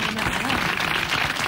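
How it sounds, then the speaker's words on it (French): Studio audience at a French radio comedy panel show applauding, a dense, steady wash of clapping filling the whole moment without pause. "vous applaudissez, Mademoiselle Chamouillet"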